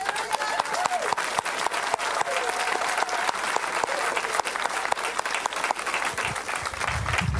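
A church congregation claps and applauds for Jesus, a dense, loud, continuous roar of many hands with cheering voices mixed in throughout.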